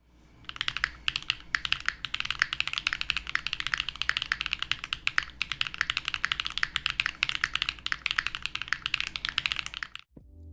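Fast, continuous clacky typing on a mechanical keyboard, crisp and close, with dense rapid keystrokes that stop abruptly near the end.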